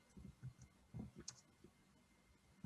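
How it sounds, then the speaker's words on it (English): Quiet, irregular clicks of keys being typed on a computer keyboard, close but faint against a low background hum. "I'm just typing something, so 1 second."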